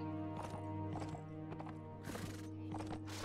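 Hooves clip-clop in an uneven rhythm over a steady low hum as an injured, slowed horse gallops in the video game The Last Days of the Third Age, with a whinny partway through.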